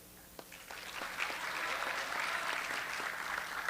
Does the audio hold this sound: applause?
yes